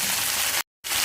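Mustard seeds, cumin, chana dal, urad dal and curry leaves frying in hot oil, a dense close crackling sizzle broken by a short silent gap.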